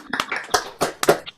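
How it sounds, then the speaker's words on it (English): Applause for a singer after a song at an online tavern concert, heard as a brief patter of several clapping hands over an unmuted connection, uneven and close, without voices. "give David a round of applause"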